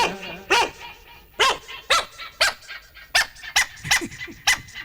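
A man imitates a small dog's yappy barking, about a dozen sharp, evenly spaced yips delivered close and loud with short gaps between them, performed as a mimicry act.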